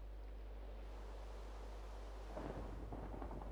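Rain and thunder in the video game Reino de Cenizas: continuous rainfall hisses over a low, steady rumble, with a louder roll of thunder swelling in toward the end, no voices.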